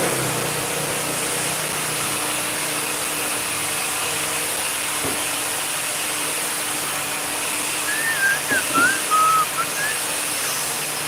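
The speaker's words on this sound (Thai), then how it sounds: "แหมเห็นสาวแล้วผิวปากเลย" A short, wavering whistle rises and falls over the steady drone of an idling engine, faint and somewhat distant.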